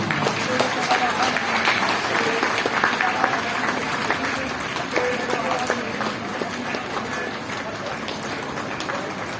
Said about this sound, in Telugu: అందరము చప్పట్లు.